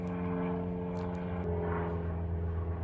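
A propeller airplane drones overhead above a residential street, a steady low engine hum with a faint rising whine, moderately loud and continuous with no talking.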